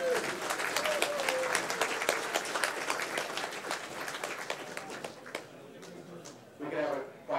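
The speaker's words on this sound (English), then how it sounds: "Let's give a round of applause for Joe." An audience applauds for Joe Fellegy, a thick burst of many hands clapping that thins out into scattered claps over several seconds before a voice speaks at the end.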